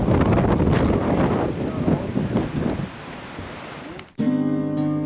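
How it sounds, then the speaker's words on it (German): Strong wind gusting through a gorge on Crete in rainy weather, roaring loudly and buffeting the microphone for about four seconds before cutting off abruptly into music. "Ziemlich windig, regnet auch gerade"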